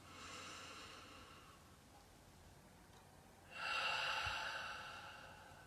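A slow meditative breath, close and soft: a gentle exhale, a quiet pause, then a fuller airy inhale that rises in volume, with no talking.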